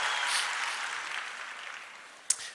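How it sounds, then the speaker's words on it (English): Soft, fairly distant applause from a seated group of performers, a steady patter that gradually thins out, ending with one sharp knock. "And give yourself a round of applause and have a seat."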